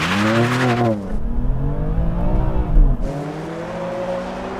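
An AMG car launches hard off the line in a drag race against an Audi RS3, a Golf and a BMW. Its loud engine revs up and shifts through rising gears in a close, roaring acceleration.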